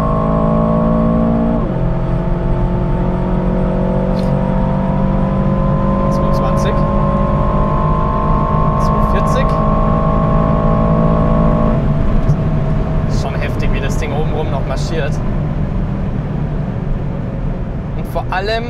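Aston Martin DBX 707 SUV accelerating hard, a steady loud engine drone rising in pitch through the gears with a shift partway, heard from inside the cabin under ongoing conversation.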